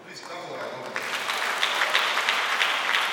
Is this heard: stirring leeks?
no